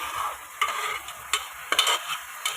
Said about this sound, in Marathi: आता टाकूया आपण तांदूळ. माझा हा बासमती राईस आहे